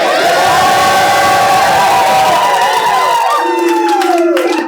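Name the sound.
crowd cheering and shouting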